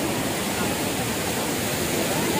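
Tirathgarh waterfall in Bastar, swollen in monsoon season, gives a constant, loud, close rushing roar of falling water that fills the whole clip without letup.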